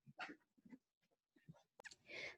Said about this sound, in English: Sorry about the barking dogs again.